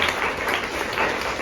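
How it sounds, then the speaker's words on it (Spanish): A brief burst of audience applause for Doctor González at an academic session, with dense, even clapping filling the whole short moment. "Les pido un aplauso para el doctor González."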